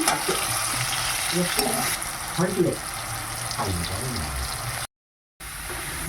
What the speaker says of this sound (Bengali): ফুলকপি ভাজা চাপিয়ে দিয়েছি